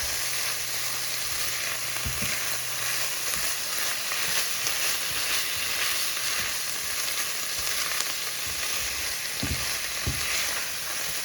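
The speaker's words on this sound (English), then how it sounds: "Let these veggies saute for just a minute." Diced vegetables sautéing in a pan, a continuous even sizzle up close with a few soft knocks of stirring, no voices.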